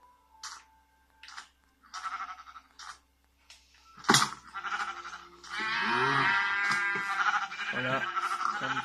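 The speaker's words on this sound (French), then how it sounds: "Voilà, un petit mouton." Sheep in the video game Minecraft bleat several times in short separate calls, followed by denser layered game sounds and music near the end.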